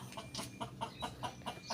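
Chickens clucking in a steady series of short, evenly spaced calls, close by and moderately loud.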